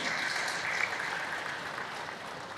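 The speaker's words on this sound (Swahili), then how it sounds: "Tujipigie makofi ya wanachama" Club members at a Young Africans meeting applaud with a steady, moderately loud wash of clapping that carries evenly through the whole stretch.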